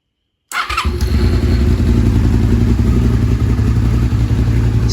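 A cold 1999 Honda VTR 250 cafe racer motorcycle fires up on the first try after a brief silence, then settles into a steady, loud, close idle rumble with a faint mechanical clatter.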